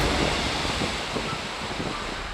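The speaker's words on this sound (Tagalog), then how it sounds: "Habang ang tunog ng alon may dalang kapayapaan." Ocean waves washing onto a grey volcanic sand beach lined with agoho trees, a broad continuous rushing surf mixed with wind noise, steady and moderately loud.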